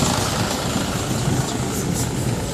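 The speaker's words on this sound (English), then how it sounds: "That is a tractor" A tractor engine runs on a farm, a loud, steady, rumbling drone that continues without a break from start to finish.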